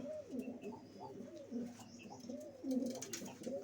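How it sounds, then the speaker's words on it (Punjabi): A pigeon coos nearby in soft, repeated low throaty phrases, with faint chirps in the background. "ਹਰੀਆਂ ਦਾ ਕਬੂਤਰ ਹੈ ਆਪਣਾ"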